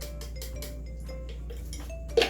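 Cream cheese and confectioners' sugar being mashed together in a bowl, with repeated soft scraping and clinking of a utensil against the bowl in an irregular rhythm, close and moderately loud, ending with a sharper clink.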